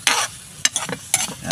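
Shell sisig being stirred in a sizzling pan, with several scraping strokes of a spoon against the pan over a hot frying crackle, close and fairly loud.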